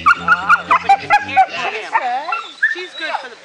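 A grandson's dog yips and barks in a quick series of sharp, close calls at first, then whines and whimpers, with voices talking alongside.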